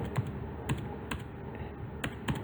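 Someone types on a computer keyboard, a handful of separate, crisp key taps spaced unevenly, close by and alone without talk.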